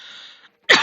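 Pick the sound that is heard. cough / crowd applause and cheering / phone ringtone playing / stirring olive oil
cough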